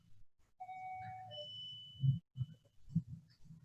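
A doorbell chimes in a home during an online electrotechnics class, a short two-tone ding-dong near the start, faint and clear, followed by a few soft dull thumps.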